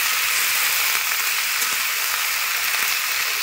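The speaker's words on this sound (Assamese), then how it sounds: "লাও আগখিনি দি ভাজি ল'ম" Bottle gourd leaf tips frying in a wok, a loud, steady, close hiss and sizzle that continues without pause and with no talking.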